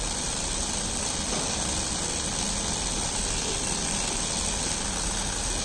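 Small DC motor spinning steadily under PIC microcontroller speed control, giving a continuous even whir with broadband hiss that holds level throughout with no talking.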